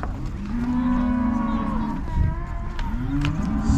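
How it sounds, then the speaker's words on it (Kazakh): Cattle moo loudly and close by at the Uzynagash livestock market in Almaty Region, one long drawn-out low call followed by a shorter one, over a busy murmur of price bargaining. "Сиырлар"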